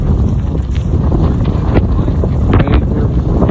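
Strong wind during a backcountry windstorm buffets a tent, a loud continuous roar with heavy rumble and flapping gusts.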